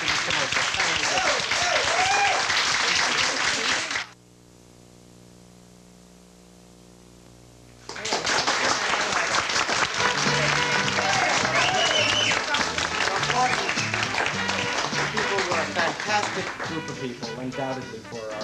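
Studio audience applause at a 1977 celebrity cabaret television show, a loud, dense wash of clapping that stops abruptly for a few seconds of hum, then returns just as loud and full.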